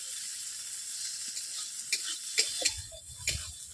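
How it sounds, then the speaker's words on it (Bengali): Parboiled potatoes fry in a pan, giving a soft, continuous sizzle broken by a few sharp clicks and taps of stirring near the end. "আলুগুলোকে এভাবে আমি 2 মিনিট ভেজে নিচ্ছি।"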